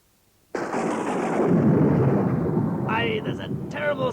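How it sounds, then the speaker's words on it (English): A dramatized storm sound effect: a sudden loud thunder crash breaks out of silence and rolls into a long, deep rumble, with a voice starting to speak near the end. "there's a terrible storm a-blowing up"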